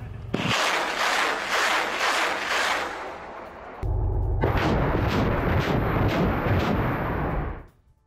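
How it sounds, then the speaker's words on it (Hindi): A Grad multiple rocket launcher fires in a loud salvo of rapid, rhythmic roaring bursts. A short lull separates two sustained volleys, and then the sound cuts off abruptly. "ग्रैड रॉकेट लॉन्चर से ये विध्वंसक हमले किए गए हैं।"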